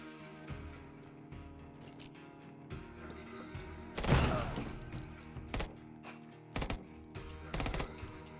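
Gunfire in a tactical shooter during a building assault, with sharp bursts of shots and a heavier blast midway, followed by several separate loud volleys over a steady game backdrop.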